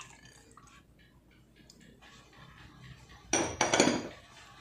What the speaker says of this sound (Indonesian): Ini kita aduk sampai semuanya larut dan tidak ada yang menggerindil.